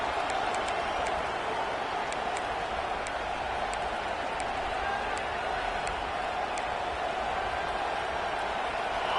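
A dense, steady roar from a college football stadium crowd cheering on third down at a Gators game, loud and continuous throughout, with faint sharp ticks in the background.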